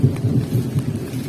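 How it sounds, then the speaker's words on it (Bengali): A storm brings a low, rolling rumble of thunder that holds steady and close for a moment, with rain noise underneath. "এই দেখো কিভাবে মেঘটা ডাকছে"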